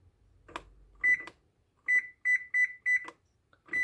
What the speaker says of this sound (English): So we'll set our timer to 30 minutes.